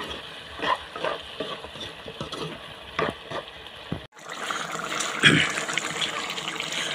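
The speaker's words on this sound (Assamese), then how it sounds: "বিলাহী দিয়াৰ পাছত আকৌ অকণমান সময় মই ভাজিলোঁ।" Pork and chopped tomatoes fry in a pan with a steady close sizzle, broken up by clinks and scrapes of stirring; after a short pause the frying comes back louder and wetter.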